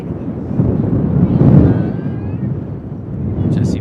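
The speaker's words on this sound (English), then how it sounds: "we get one of those big 35, 40 mile an hour gusts comes out of nowhere there" Strong 35–40 mph wind gust sweeping across an outdoor softball field during a high school game, a loud rumbling buffet on the microphone that peaks mid-clip, with a voice talking faintly underneath.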